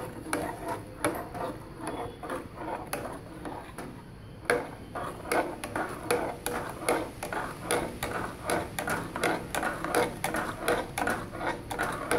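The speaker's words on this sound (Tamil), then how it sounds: "இந்த பருவத்தில் நம்ம சீனியை போட்டு கிண்டிக்கிட்டே இருக்கணும்." Milk and sugar thickening in a pan for palkova are stirred continuously, giving a steady run of close, rhythmic scraping and clinking strokes against the pan with no talk.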